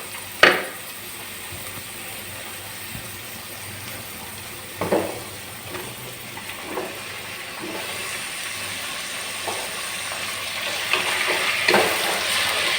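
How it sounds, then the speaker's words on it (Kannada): Onion, mustard seeds, curry leaves, tomato and fresh cowpeas fry in a pan with a steady broad sizzling hiss, punctuated by a few sharp clinks and stirring knocks of a utensil, close and continuous. "ಇದನ್ನು ಹಾಕ್ಕೊಂಡು ಫ್ರೈ ಮಾಡ್ಕೊತಾ ಇದ್ದೀನಿ. ಇವಾಗ ಇದಕ್ಕೆ ಟೊಮೆಟೊ ಸೇರಿಸ್ತೀನಿ."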